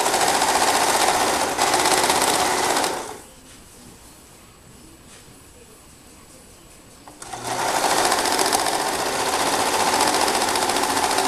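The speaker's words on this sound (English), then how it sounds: "just run it off the serger" Serger sewing machine stitching the edge of a stretched t-shirt fabric, loud rapid mechanical whirring that stops for several seconds and then resumes at full speed.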